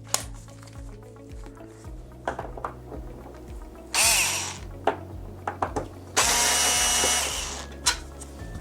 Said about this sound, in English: I have an electric screwdriver here using a